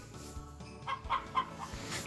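Chick in Harvest Moon: Back to Nature clucking in a few short, quick chirpy clucks, soft and close, alone without talk.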